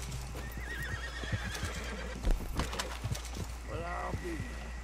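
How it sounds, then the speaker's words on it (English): In the video game Red Dead Redemption 2, a horse whinnies with a rising, wavering call near the end, following steady clip-clop hooves amid background game sounds and a brief voice. "Hear a horse."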